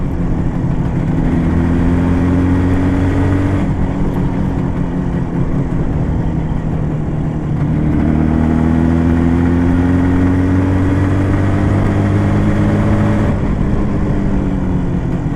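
Loud and close, a modified IZh Jupiter motorcycle engine revs in two long pulls, each tone rising steadily before dropping back, with a constant rough mechanical roar and no talking.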